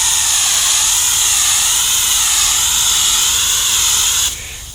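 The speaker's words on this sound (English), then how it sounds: "And I use the air compressor" An air compressor sprayer applies Flood solid cedar stain to wood on a garage project, giving a loud, steady, close hiss that runs continuously before dropping off abruptly at the end.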